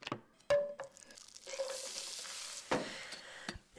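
Onions sizzle in a pan as they are stirred, with quiet frying hiss and a few sharp scraping and clacking strokes over a few seconds.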